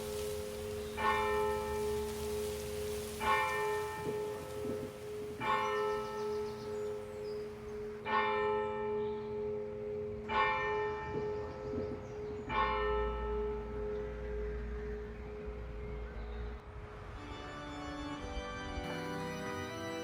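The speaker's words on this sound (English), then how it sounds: "The church bells toll" Bells of St. Lawrence's Church in Eyam tolling, six slow, evenly spaced ringing strokes with long decaying hum, followed by a faster peal of several bells near the end.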